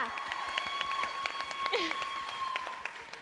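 An audience claps for a theatre playwright at a launch event, fairly dense applause with an overlapping faint voice and a tonal hum running under the clapping.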